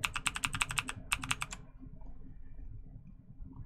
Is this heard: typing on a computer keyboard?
yes